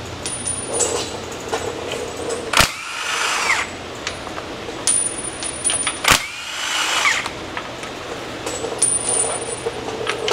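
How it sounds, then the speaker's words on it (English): Inspection cover bolts coming off a 6.0 Chevy Express 2500 with a socket on a power tool, whirring tool runs broken by two sharp metallic clinks as bolts drop, close and loud. "Let's get these inspection cover bolts removed here."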